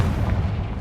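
The Confringo blasting spell explodes in Hogwarts Legacy, a brief, dense, booming blast with heavy low rumble that fills the short moment. No speech is heard.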